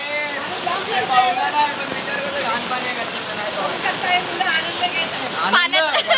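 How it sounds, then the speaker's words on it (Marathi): Floodwater rushes into a house during heavy, non-stop monsoon rain in Nalasopara, making a dense, steady splashing roar. Voices talk and shout excitedly over it, and the water stays loud throughout. "पाणी एवढं घरात शिरलंय."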